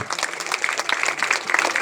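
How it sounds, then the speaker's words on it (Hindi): Steady, dense applause from an audience at a school's annual function, brief and moderately loud throughout. "जोरदार तालियों के साथ"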